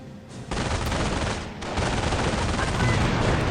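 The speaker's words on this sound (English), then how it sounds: "but again the machine gun pinned them down, so they cannot move" Machine gun fire in the mobile strategy game Company of Heroes, a dense continuous rattle of bursts and battle noise, loud and unbroken throughout.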